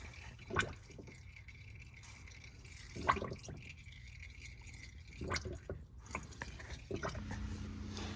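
Used motor oil dripping and draining from a car's oil pan during an oil change, heard as quiet, sparse liquid drips and splashes at a few scattered moments against a low background hum.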